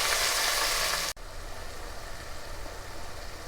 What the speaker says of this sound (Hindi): अब हम इसमें टमाटर शामिल कर देते हैं। टमाटरों को अच्छी तरह से भूनेंगे।